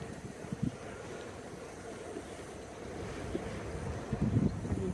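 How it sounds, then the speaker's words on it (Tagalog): Strong wind on a hilltop above Taipa village buffets the microphone in a continuous low roar, with gusty thumps swelling near the end. "Malakas ng hangin."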